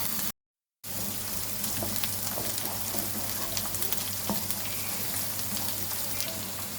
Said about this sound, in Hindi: 3 अदद दरमियाने साइज़ के प्याज जिनको हमने ब्लेंड किया हुआ था। इनको हम पकाएंगे